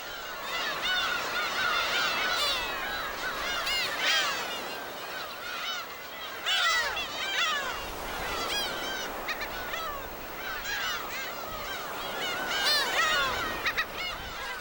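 A colony of black-tailed gulls calls on Dokdo island during the chick-rearing season, many overlapping honking, mewing cries rising and falling continuously at moderate distance, with no voices.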